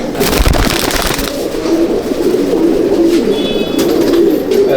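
Pigeons coo continuously in a loft of tournament breeding birds, several soft, throaty calls overlapping close by amid constant background rustle.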